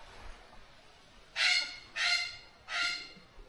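A parrot on an island in Fiji gives three harsh, honking squawks in a steady rhythm, fairly close and loud against quiet surroundings.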